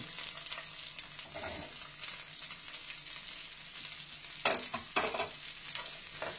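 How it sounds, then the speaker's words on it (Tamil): Radish and curry leaves sautéing in a pan for radish chutney, with a steady soft sizzle and a few stirring scrapes and clinks near the end, no talk. "அதையும் போட்டு இதை நல்லா வதக்கிறேன்"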